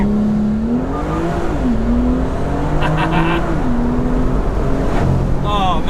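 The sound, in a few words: BMW M2 launching at full throttle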